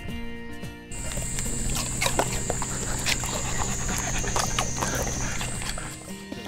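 A dog tastes sweet Shinkansen pears at a tourist pear orchard in Tottori, with crisp crunching clicks from close by over steady background noise and a thin high whine.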